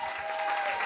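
Audience at a comedy club in La Réunion clapping, a brief dense wash of steady applause from a crowd.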